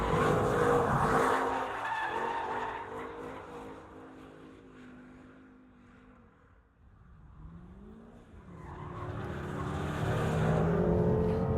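A Jaguar XFR-S sports car driven hard, its engine roaring and tyres squealing through corners, loud at the start, fading briefly mid-way, then surging loud again.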